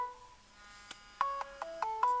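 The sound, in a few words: incoming phone call ringtone through car Bluetooth handsfree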